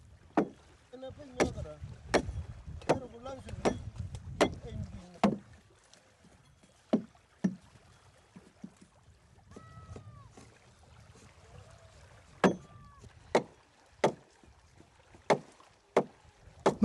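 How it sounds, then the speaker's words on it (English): Wooden Kamoro canoes paddled on Papuan coastal waters, with sharp, evenly spaced paddle knocks against the hull and soft splashes recurring through the stretch, fairly close and clear. "Most Kamoro still paddle their canoes, usually going with the tide when possible"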